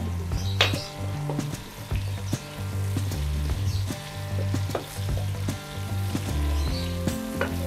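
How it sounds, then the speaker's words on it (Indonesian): Garlic and ginger frying in oil in a pan, a steady loud sizzle with scattered spatula taps and scrapes against the metal, no voices. "pertama kita masak adalah bawang putihnya dulu. Sama jahe. Biar wangi ya."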